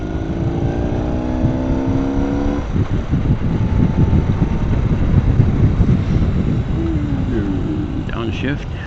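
A vintage BMW R80/7 motorcycle downshifts on a winding mountain road, its engine pitch dropping and then settling into a rougher, lower rumble, all beneath constant loud wind buffeting.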